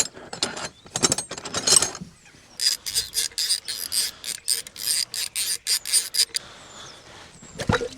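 A wrench ratcheting to unscrew a part during a Fendt 716 tractor oil cooler repair, with bursts of quick rhythmic clicking strokes close up, separated by short pauses and some metal handling.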